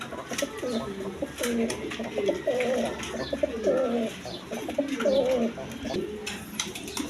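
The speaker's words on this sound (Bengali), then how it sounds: "এখানে এক পেয়ার রেশার কবুতর আছে দেখেন" Racing homer pigeons coo repeatedly at close range, soft throaty calls overlapping one another against a light background hum.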